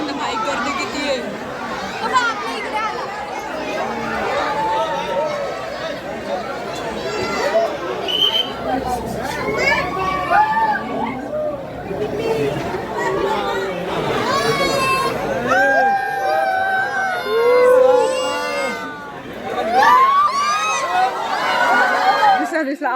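Zoo visitors crowd the tiger viewing area, their voices blending into a constant babble of chatter with children, laughter and excited calls rising near and far.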